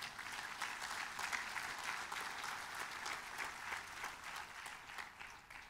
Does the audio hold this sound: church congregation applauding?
yes